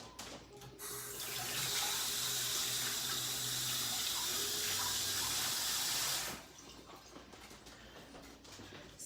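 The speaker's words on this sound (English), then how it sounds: "I'm gonna rinse the spoon and then stir the noodles." Running kitchen tap water pours steadily into a sink while a spoon is rinsed during spaghetti and meatballs cooking, a loud even gush lasting several seconds before it cuts off abruptly.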